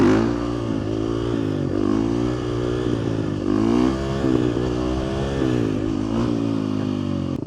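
A Husqvarna 350 motorcycle engine revs close by, its pitch rising and falling in repeated throttle blips over a rough, clattering idle. It stays continuous and fairly loud throughout.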